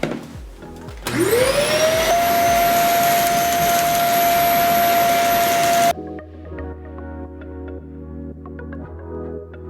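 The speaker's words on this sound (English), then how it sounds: "Then I'm gonna vacuum it up." A vacuum cleaner switches on, its motor whining up to a loud steady roar while sucking dried Play-Doh out of carpet, then cuts off and leaves quieter rattling and clicks behind.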